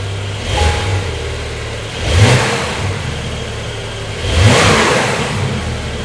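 A Porsche 911 revs with its sports exhaust closed, rising in two distinct throttle blips from a steady idle, close and fairly loud, with no talking.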